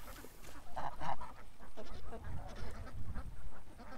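A goose gosling, smaller than the ducklings around it, honks repeatedly up close, with quacking duck calls mixed into a busy stretch of fowl noise.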